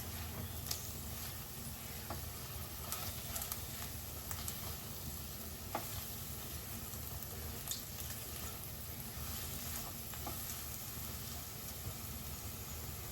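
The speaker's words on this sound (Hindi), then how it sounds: "और इसमें डाल देते हम खटाई। इसको कर देंगे मिक्स।" Cooked okra stirred in a pan after dried mango powder goes in, a quiet constant sizzle with scattered light scraping clicks, no voices present.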